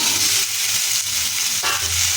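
Potato and tomato fry with garlic and spices in a pan, giving a steady loud sizzle with a brief stirring scrape partway through and no talk.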